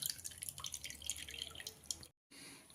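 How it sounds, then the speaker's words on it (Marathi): Water drips and trickles faintly as soaked ingredients are squeezed out by hand in a home kitchen, with a brief silent gap near the end. "अशा प्रकारे मी सर्व याच्यातलं पिळून पाणी काढून घेते"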